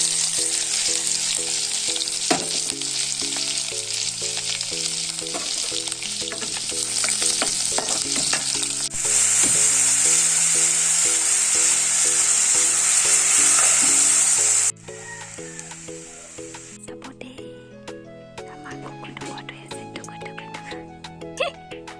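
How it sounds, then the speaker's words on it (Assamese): Garlic sizzles and crackles in hot oil for a dal tempering, a loud, steady frying hiss throughout, with a voice talking and music playing underneath. "নহৰু দি পেলাই তেল মাৰিম এতিয়া"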